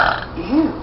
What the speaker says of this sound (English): right after I burped